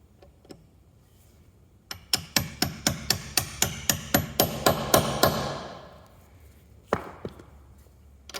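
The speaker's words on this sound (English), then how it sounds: "I've gone for a 10mm, which is a nice tight fit. Just hammer it on there" Repeated sharp hammer strikes drive a 10mm socket onto a locking wheel bolt on a Citroen C4 Cactus, about a dozen steady, close blows in quick succession, then a pause and one more single knock.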